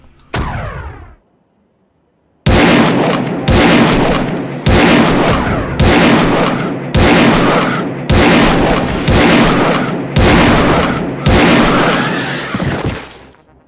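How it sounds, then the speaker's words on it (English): A shotgun fires repeatedly in the horror game Realms of the Haunting, with about nine loud, booming blasts in a steady rhythm, each followed by a short decaying tail. "I am blasting through these boxes of shotgun shells"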